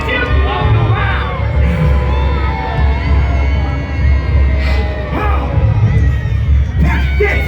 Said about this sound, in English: Peasants, please, on salute the Duke, with loud claps and cheers